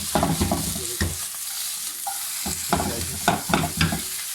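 Chow mein noodles tossed and mixed in a hot pan, loud sizzling with bursts of scraping and clattering stirs in an uneven rhythm, close by and free of speech.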